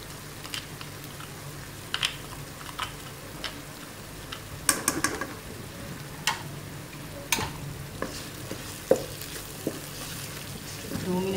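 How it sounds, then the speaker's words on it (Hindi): Ginger garlic paste frying with chicken in a pan, a soft low sizzle under scattered ticks and clinks of stirring, fairly faint and close throughout. "दो मिनट के लिए आप अदरक लहसुन के पेस्ट को फ्राई करें।"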